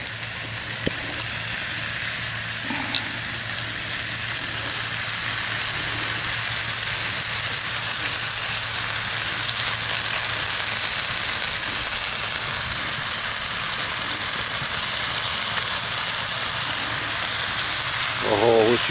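BBQ chicken thighs sizzle over hot coals in a steady, close, even hiss of frying, with a few small clicks and pops and no talking.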